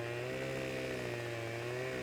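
A video game chainsaw cuts down trees, a loud, continuous buzzing engine drone with a steady pitch and no pauses.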